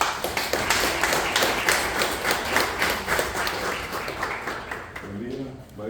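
A school audience claps to welcome a speaker, a brisk uneven burst of many hands close by that thins and fades toward the end, with a voice starting as it dies down.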